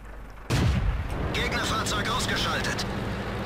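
A tank gun firing in World of Tanks from a Pz.Sfl.IVc, one sudden loud blast followed by a long rumbling echo and decay.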